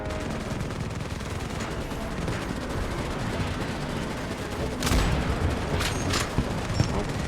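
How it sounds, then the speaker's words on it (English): Grenade launcher fire in a Starship Troopers game, a dense barrage of gunfire and booms rolling continuously, with sharper, louder blasts bursting out near the end. "If I shoot enough grenades downrange, I should get plenty of kills either way, right?"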